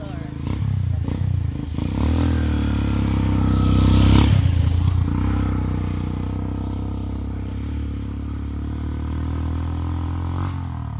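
A motorcycle engine close by, rising to a loud peak as it passes and then fading into steady background noise on a street in Patnanungan, Quezon.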